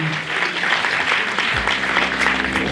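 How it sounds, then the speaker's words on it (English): Steady applause from an awards ceremony crowd honoring a recipient, dense clapping continuing throughout while a low musical tone enters partway. "Another round of applause for Miss Kancy McCarn."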